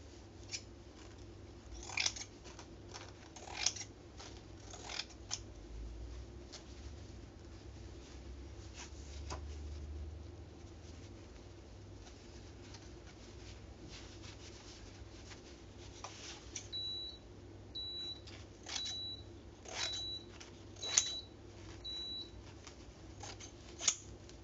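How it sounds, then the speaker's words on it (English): Sharp scissors snip through fabric during sewing in a string of quiet, crisp cuts and slicing glides, close and alone over a faint background hum. "Kind of dope that these scissors are still sharp."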